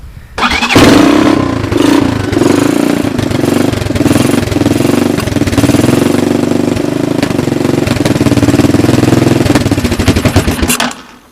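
A 1984 Honda TRX200 ATV with a neglected carburetor cold-starts and catches at once, then runs at a loud, steady, rough idle up close before cutting off abruptly at the end.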